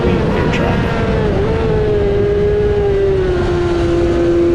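An amateur middleweight racing motorcycle on a hot lap makes a loud, continuous engine drone whose pitch dips briefly and then holds steady, close and unbroken.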